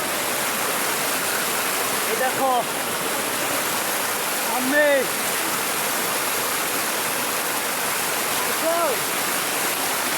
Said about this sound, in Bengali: আমরা আছি ঝর্ণায়